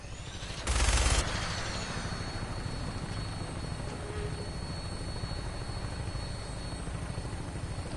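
Aircraft on final approach to an airport in Fallout 4, a sustained droning engine and rotor roar with a sharp burst near the start, holding steady throughout, with no talking.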